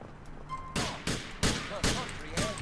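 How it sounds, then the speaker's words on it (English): Bursts of 9mm Uzi fire in the GTA IV police game, four or five sharp loud volleys spaced roughly every half second to second, with faint background ambience between them. "He's got a freaking 9mm Uzi he's opening up with."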